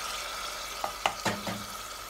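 Onions and spice paste cook in a pan after water is added, giving a soft, even sizzle under a few close clinks and scrapes of a spoon against the pan.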